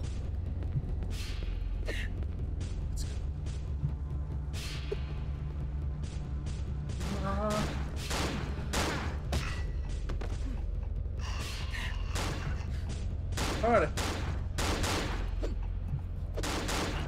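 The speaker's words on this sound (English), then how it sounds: "We have enemies who have guns now." Enemy gunfire in the horror game Cry of Fear comes as sharp, repeated shots and rattling bursts scattered across a low droning background, with occasional breathy gasps between them.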